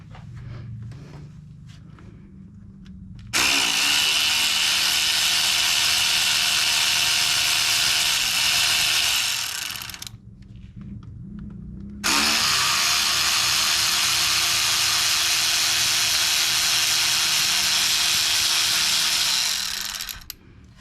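A power tool whirs loudly while unscrewing the ignition coil screws on a 2005 Buick Park Avenue, running in two long sustained bursts separated by a brief pause, with some quiet handling noise before it starts.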